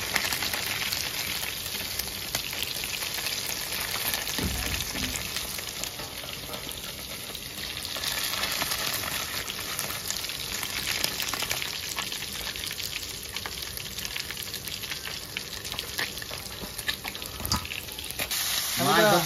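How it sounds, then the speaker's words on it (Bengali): River fish from the Damodar frying in a pan while cooked outdoors by the riverside, a loud continuous crackling sizzle with occasional stirring thumps throughout. "এই যে মাছ ভাজতেছি"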